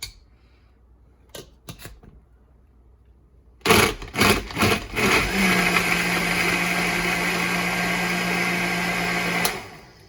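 A few clicks and clattering knocks, then an old Hamilton Beach blender whirs on loudly and runs steadily for several seconds before cutting off, blending a frappe.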